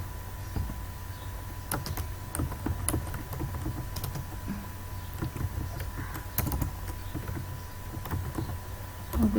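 Keys clatter on a computer keyboard while text is entered in Microsoft Word. Scattered, irregular keystrokes sound fairly close over a steady low room hum.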